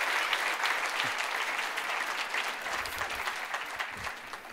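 An audience applauds amateur actors after a church mime performance, producing a sustained, dense wash of clapping from many hands that fills the room at an even level throughout.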